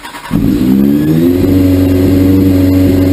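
A cold motorcycle engine starts and settles into a steady, high-revving idle, loud and close, droning continuously without pause.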